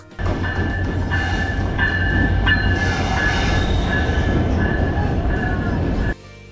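A Bangladesh Railway train on the run from Dhaka to Dinajpur gives a loud, steady rumble of wheels and carriages with a thin high squeal riding on top, before it cuts off abruptly near the end.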